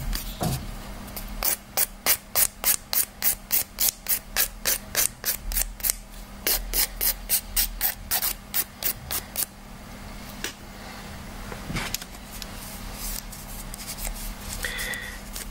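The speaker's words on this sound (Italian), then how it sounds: "E ora vado a limare per dare una forma tutta omogenea." Fingernails being shaped with a nail file, a quick run of evenly spaced rasping strokes, close and crisp, then slower scattered rubs near the end.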